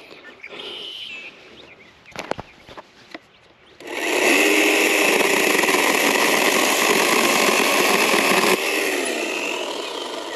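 A Ryobi battery chainsaw cuts a felled tree into firewood, starting after a few knocks and then running as a loud, steady motor whine for several seconds before easing slightly near the end.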